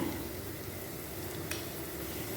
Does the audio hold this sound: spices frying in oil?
yes